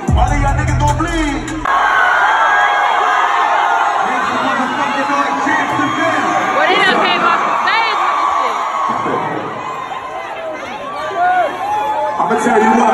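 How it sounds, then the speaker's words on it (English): Big arena concert crowd at a show in Jacksonville, Florida, roaring, cheering and whooping loudly and continuously, with a voice on the microphone talking over the noise. "This is by far the loudest fucking crowd in the whole tour."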